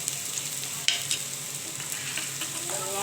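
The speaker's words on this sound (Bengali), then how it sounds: "ভালো করে কষিয়ে নিতে হবে পেঁয়াজটা আর কাঁচা লঙ্কা" Chopped onion, green chilli and garlic sauté in a pan for a fish roe bhujia, a soft continuous sizzle with occasional sharp spatula scrapes and stirring knocks, close and alone.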